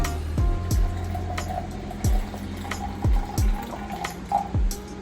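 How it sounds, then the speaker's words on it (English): Hot water is poured into a cup holding matcha powder, close and fairly loud, with a run of gurgling glugs that come in irregular bursts. "Now we will fill it with some hot water"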